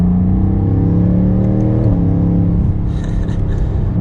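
A 2020 BMW M8 Competition pulling hard from second gear, its engine note rising loud and close, dipping briefly at a shift before climbing again as the car accelerates.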